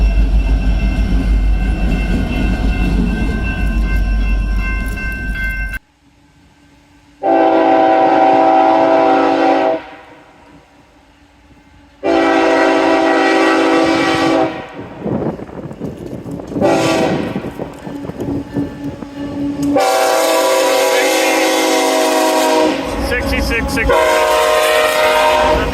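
EMD diesel locomotives pass loudly one after another, blasting long sustained horn chords in repeated bursts with brief quieter gaps between them, plus rumbling engines and rail noise.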